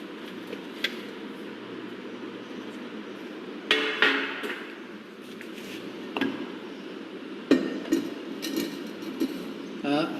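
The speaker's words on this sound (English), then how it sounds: "Now we will make the paste." Cement paste made from 400 grams of cement and 112.2 grams of water is mixed by hand, with scraping and clinking strikes over a steady background hiss. The strikes grow louder and more frequent near the middle and end.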